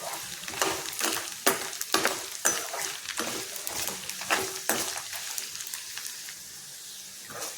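Garlic sautéing in oil over a low flame for a spicy Madurai-style garlic chutney, a steady close sizzle broken by regular scraping stirs of a spoon against the pan, with no talking.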